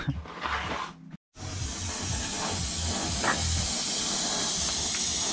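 Pliers being heated for crushing the exhaust inlets into the airbox of a Yamaha YFZ450R quad, giving a steady close hiss that runs almost the whole time after a brief gap near the start.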